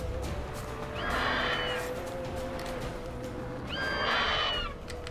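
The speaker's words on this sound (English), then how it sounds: "That's somebody else's horse." Two horse whinnies in The Witcher 3, the first near one second and the second near four seconds, each a rising, wavering call heard over steady low game ambience.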